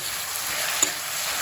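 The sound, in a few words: mushrooms frying in a pan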